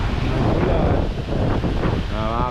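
Strong rushing water roars steadily with gusty wind buffeting the microphone; faint voices murmur underneath, and a brief tonal hum appears near the end.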